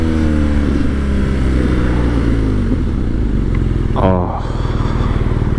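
A 2020 BMW R nineT Scrambler motorcycle rides through town, its engine a loud, steady close-up drone that rises and falls with throttle changes, while a rider speaks briefly over it.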